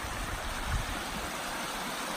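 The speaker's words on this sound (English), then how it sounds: "Let's go look at the waterfall." A waterfall cascading at Killing Creek along the Pacific Crest Trail, a steady broadband rush of falling water, loud and constant, with no one speaking.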